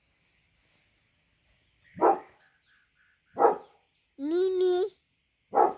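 A dog barks in short, loud single barks spaced a second or so apart. One drawn-out whining yelp breaks the pattern in a quiet outdoor setting, and a voice briefly calls out.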